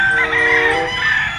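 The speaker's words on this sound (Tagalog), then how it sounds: "Kapupoging manok." A gamefowl rooster crows loudly and close at a gamefarm, one sustained, wavering call filling most of the moment with a faint murmur of other birds behind it.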